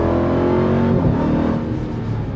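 A Dodge Durango Hellcat driving at part throttle, a loud continuous engine drone with a tonal supercharger whine riding over the rumble, steady throughout and fading slightly at the end.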